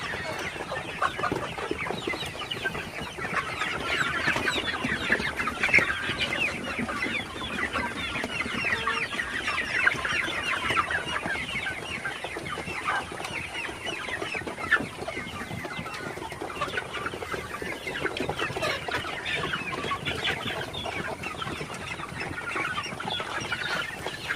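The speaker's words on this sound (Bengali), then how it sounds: "তো আপনারা দেখতে পাচ্ছেন মুরগিগুলা খাবার খাইতেছে" A flock of Sonali super hybrid chickens pecking at feed on a hot afternoon keep up continuous overlapping clucks and soft cackles. The birds sound close and busy throughout.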